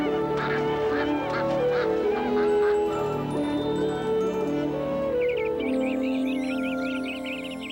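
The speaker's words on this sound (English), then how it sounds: "God created every kind of bird" Geese honk in a flock over a musical backdrop, their calls steady and clear from start to finish, turning into a denser, more excited chorus of honking near the end.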